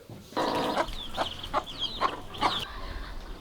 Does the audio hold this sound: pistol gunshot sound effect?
no